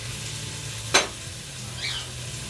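Bacon frying in a pan on high heat for a lamb stew, giving a steady faint sizzling hiss with one sharp crackle pop midway and a softer spit near the end.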